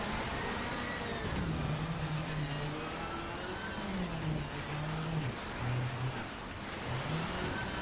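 Rally car in Richard Burns Rally circling a cone course at a rally school, engine droning loud and close with rising and falling revs as it shifts and corners, continuous throughout.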